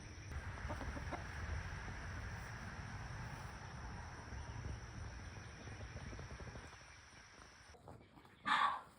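A lavender Orpington hen clucks softly amid a quiet farmyard with a steady insect hum, then a louder, brief burst of clucking near the end.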